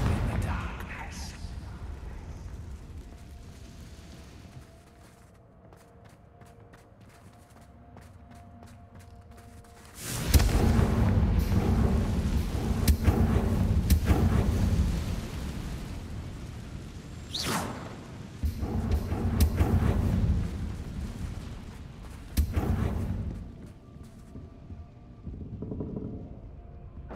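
A Confringo spell blast from the Hogwarts Legacy video game erupts in a sudden loud burst partway through, followed by sustained rumbling game sound with quieter ambient music before it.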